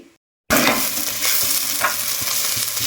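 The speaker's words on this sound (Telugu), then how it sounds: "ఉల్లిగడ్డ మంచిగా వేగింది." Onions fry in a hot pan with a loud, steady sizzle that bursts in after a brief silence, with occasional stirring scrapes and no talking.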